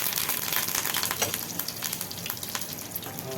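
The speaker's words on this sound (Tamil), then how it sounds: "கடுகு நல்லா பொரியட்டும் பொரிஞ்ச உடனே கடு கருவேப்பிலை போட்டுக்கிறோம்" Mustard seeds and curry leaves frying in hot oil for mango pickle, a steady close crackling sizzle with sharp popping spatters throughout.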